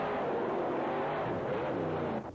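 Monster trucks race at a championship event, their engines a loud, continuous roar that cuts off abruptly at the end.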